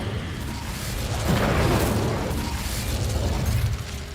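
Casting the Incendio fire spell in Hogwarts Legacy brings a loud, roaring whoosh of flame that swells to a peak, stays full and rumbling, then eases slightly toward the end.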